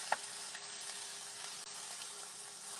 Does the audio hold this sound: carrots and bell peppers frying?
yes